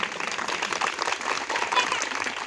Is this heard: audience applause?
yes